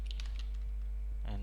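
Keys typed on a computer keyboard while entering the netstat command, a quick run of light clicks followed by a firmer keystroke near the end, close and fairly quiet over a steady low hum.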